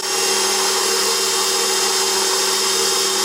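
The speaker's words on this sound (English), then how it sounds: "We're going to add our dough hook attachment to our KitchenAid mixer. And we're going to turn this on a low and mix that all together." A KitchenAid stand mixer fitted with a dough hook churns dough on low speed, giving a steady, loud motor whir with a constant hum and no breaks, close up and with no talking.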